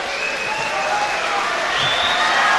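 Crowd applause at the end of a round at an amateur fight championship, a steady spread of clapping with some cheering, moderately loud and continuous throughout.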